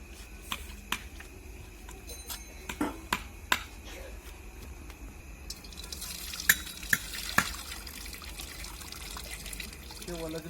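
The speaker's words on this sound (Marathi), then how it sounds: "तर आता आपल्याला तांदूळ चांगले धुवून काढायचे आणि त्याच्यामध्ये टाकून घ्यायचे." Rice washed in water in a home kitchen, with sloshing and trickling under scattered sharp clicks of grains and utensils against the vessel, close by and moderately loud.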